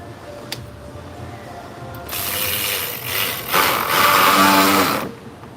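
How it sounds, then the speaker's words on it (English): A ratchet strikes a spinning fan during A/C compressor clutch work on a 2009 Subaru Outback 3.0L H6, giving a rapid, loud mechanical clatter and whir that starts abruptly, surges twice and stops after about three seconds. "Ratchet hit the fan."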